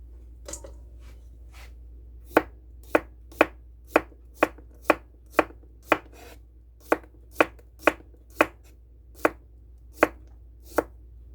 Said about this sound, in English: I'm just going to chop up our cucumber